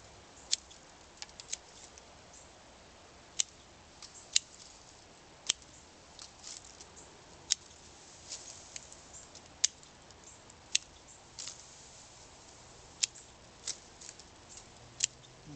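Sharp scissor snips trim a Green Island ficus, scattered irregular clicks at close range over a faint quiet background, spaced a second or two apart with no talking.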